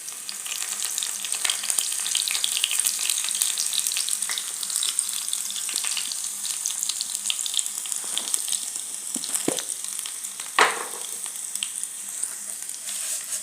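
Garlic fries in hot oil for Kerala paripu (dal) curry, making a continuous crackling sizzle near at hand. A few louder stirring scrapes come near the end.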